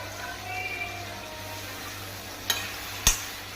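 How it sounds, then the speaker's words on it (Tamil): Mint and coriander leaves sauté in oil for a monitor lizard curry gravy, a faint, steady sizzle with two brief sharp clatters of stirring near the end. "கடைசியாக புதினா, கொத்தமல்லி தழையும் நல்லா வதக்கிக்கலாம்"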